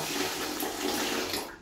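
Steady water rushing in a house bathroom where the supply runs only at set hours, a continuous close hiss and splash that tapers off at the end.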